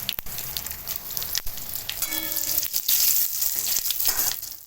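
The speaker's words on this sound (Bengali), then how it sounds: "দিয়ে দিচ্ছি জিরা ফোড়ন," Cumin seeds and bay leaf sizzle in hot oil for a prawn and bottle gourd dish, a crackling, spitting fry with sharp pops and bursts of hiss, close up and without voices.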